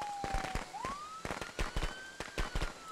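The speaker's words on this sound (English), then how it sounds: "Sounds like my firework plan stopped him" Fireworks go off in Friday the 13th: The Game: a whistling tone that rises, then a quick string of sharp pops and crackles, fairly loud and close.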